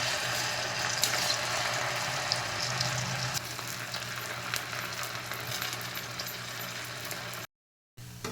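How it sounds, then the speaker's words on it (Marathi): Sabudana rolls fry in hot oil with a steady, close sizzle and crackle, broken by a brief silent gap near the end. "मी तेल तापत ठेवले तर आता हे एक एक हळूच सोडायचे"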